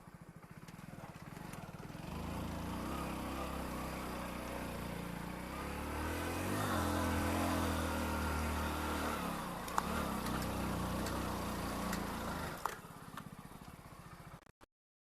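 Motorcycle climbing a steep mountain track toward a hilltop mosque near Makkah, the engine droning steadily and straining louder in the middle, with a few knocks and a faint voice underneath.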